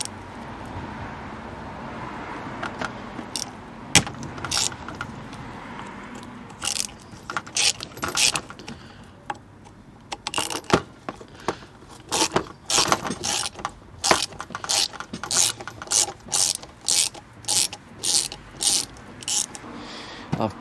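A hand ratchet clicks through rapid bursts while undoing Torx T25 screws on a Ford Focus Mk1, the sharp pawl ticks growing denser toward the end over faint background noise.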